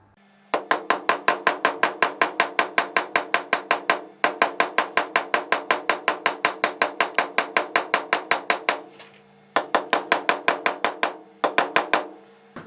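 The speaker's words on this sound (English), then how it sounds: "And you just gently tap upwards and the yoke should come up off the forks." A screwdriver is tapped upward with a hammer to lift the fork yoke off the forks of a 2013 Triumph Street Triple R. Long runs of rapid, sharp, close metallic taps are broken by brief pauses.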